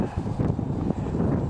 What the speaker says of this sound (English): We got about 15, 20 mile an hour wind now.